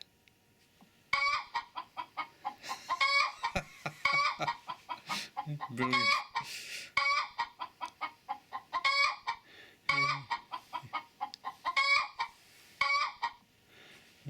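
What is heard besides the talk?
hen house sound of chickens clucking on Google Pixel 6a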